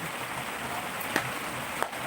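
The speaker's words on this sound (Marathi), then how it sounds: "पाऊस आला रे बाप रे" Rain falls steadily in a soft, even wash, with a couple of sharper drips or taps standing out, fairly close but not loud.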